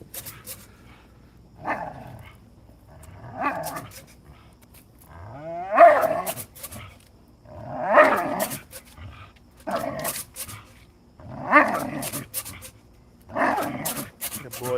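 A big dog growls and barks close by in deep, rough bursts that repeat roughly every two seconds, with quiet gaps between them.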